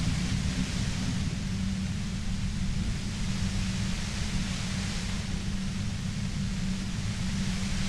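Steady broadband white-noise static in the Disco Elysium video game, a constant hiss with a rumbling low end that holds evenly throughout, loud and alone with no voices.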